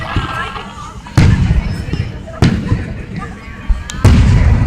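Three sharp fireworks bangs go off a second or so apart. Each is a loud, close burst followed by a crackling rumble, with voices in the background.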